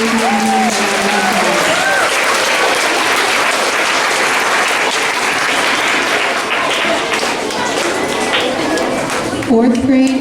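Sustained loud applause fills a school awards assembly after third grade AB honors students are named, a dense crowd of clapping hands running steadily throughout, with a brief voice near the end.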